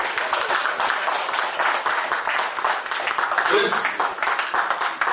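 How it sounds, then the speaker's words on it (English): An audience at a charity gala claps for a man, dense continuous applause under a voice speaking over the crowd. "Please clap for this gentleman."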